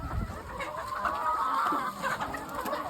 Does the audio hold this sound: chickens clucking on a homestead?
yes